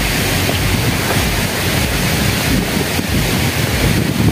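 Water rushes over the Hub Dam spillway in Balochistan, Pakistan, a loud, constant roar mixed with buffeting wind on the microphone.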